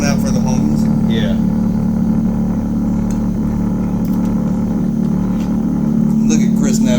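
A low, steady Yamaha outboard motor on a G3 boat hums throughout while people talk over it, with water and wind noise around.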